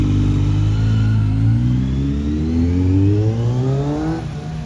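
A Kawasaki Z900 motorcycle fitted with an Arrow exhaust revs loudly up close in first gear, its engine note climbing steadily for several seconds before dropping off, with no talking.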